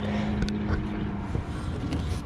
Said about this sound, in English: listen to those bearings